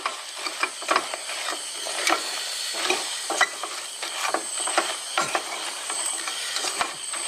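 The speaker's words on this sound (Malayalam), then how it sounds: "ഇനി ഇത് കുറച്ച് നേരം ഇളക്കണം" Fried raw banana chips tossed with jaggery in a pan over low heat, giving a steady run of scraping, clattering stirs with a light sizzle, close and moderately loud, with no talking.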